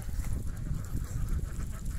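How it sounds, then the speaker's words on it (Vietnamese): Many ducks at a rural duck farm in the laying season make a dense, continuous chorus of low quacking and honking, steady and fairly close. "rất là nhiều vịt các bạn"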